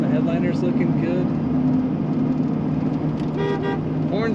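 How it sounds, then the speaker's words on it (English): A 1996 Ford F-150 Eddie Bauer extended-cab 4x4 truck sounds its horn in a steady, sustained honk close by, with a voice talking over it. "Horn's working."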